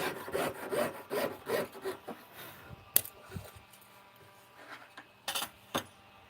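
A hand saw cuts wooden bookmarks with quiet, rhythmic rasping strokes, close up. A sharp click and scattered taps of wood being handled break up the sawing.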